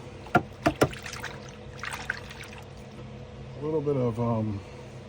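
Cleaned parts from a No.1 Mk.3 drill-purpose rifle are dunked and swished in water, a few sharp knocks followed by a short burst of sloshing and pouring, close and moderately loud.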